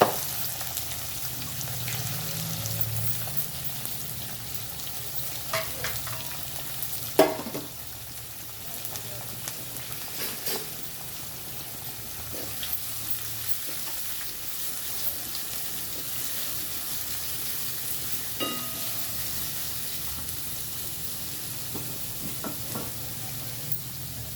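Taro pieces fry with green chillies in a pan, a low steady sizzle broken by occasional scraping and knocks of a spoon against the pan, fairly quiet throughout.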